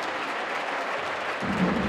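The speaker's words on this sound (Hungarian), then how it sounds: "Kéven Henry kap nagy tapsot," A basketball arena crowd at a Hungarian league game breaks into applause for a player, with clapping swelling partway through after a quieter stretch of murmur.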